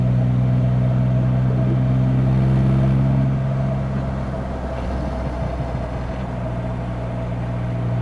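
A vehicle's exhaust note drones while riding, a loud, continuous low rumble with a steady tone that eases slightly in level partway through, with no voices.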